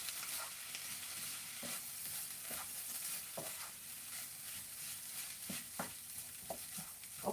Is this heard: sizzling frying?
yes